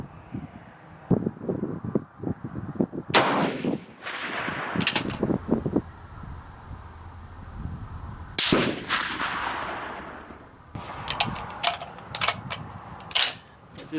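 Sharp rifle shots crack out one at a time at an outdoor shooting range, with irregular gaps between them. Each report is loud and close, with a short echo tail and some mechanical handling noise in between.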